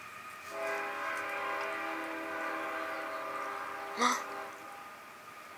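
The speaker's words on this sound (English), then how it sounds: "Here's a choo-choo train?" A train horn sounds one long, steady multi-tone blast at moderate distance, followed by a short sharp squeal near the end against a quiet background.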